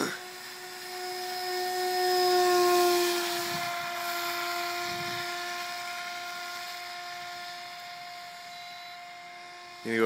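A ParkZone Icon A5 radio-controlled float plane flies over Wood Lake in Oyama, B.C. Its electric motor gives a steady, high, droning whine that rises and falls slightly as it passes, heard from a moderate distance across the water.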